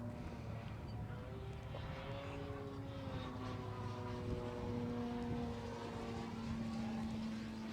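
ExtremeFlight 67-inch Laser EXP RC plane with an AM670 motor, flying through knife-edge passes: a steady propeller and motor drone whose pitch rises and falls as the plane passes at a moderate distance.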